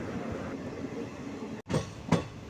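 Ernakulam–Kayamkulam passenger train rolling along the rails near Mararikulam station, a steady rumble with two sharp wheel-and-joint knocks late on, heard from on board.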